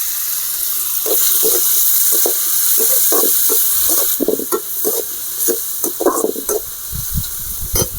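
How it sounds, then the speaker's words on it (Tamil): Apple pieces sautéing in hot oil with garlic for an apple thokku, giving a steady close frying sizzle with intermittent stirring clatter from the pan, no talking. "ஆப்பிளை லேசாக வதக்கினா போதும்"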